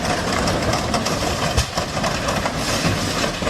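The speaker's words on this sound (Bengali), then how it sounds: "মনে হচ্ছে ট্রেনটা পুরোপুরি থামার জন্য আর কিছুটা সময় লাগবে" A train braking to a halt, with loud, continuous rumbling and rail clatter from the wagons and a dense grinding roar that holds steady without fading.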